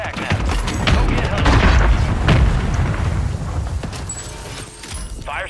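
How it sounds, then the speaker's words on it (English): Booming explosions from a friendly mortar strike in a video game, a series of heavy thuds and rumbling blasts close by, with voices heard over the barrage. "Friendly mortar strike inbound."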